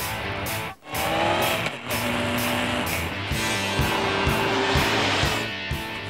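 A Honda CB1300 motorcycle with a heavy four-cylinder engine is ridden hard, a loud, steady engine roar with brief dips as gears change, continuous throughout without talk.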